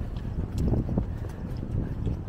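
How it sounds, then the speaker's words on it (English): Gusty wind buffets the microphone with a low, uneven rumble and soft thumps on a breezy day in Feltham, steady and moderately loud throughout. "it's very windy today"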